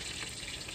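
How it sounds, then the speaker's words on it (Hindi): Green chillies sizzle in hot ghee, a steady bright frying hiss with no voices, very short. "अभी घी हमारा गर्म हो चुका है, हम जो है ना मिर्ची ऐड कर रहे हैं"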